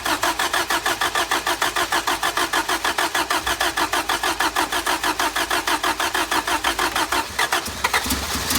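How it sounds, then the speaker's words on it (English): A truck engine cranks and catches, then runs with a steady, rapid pulsing chug, loud and close, with no voices. "the engine sounds super healthy"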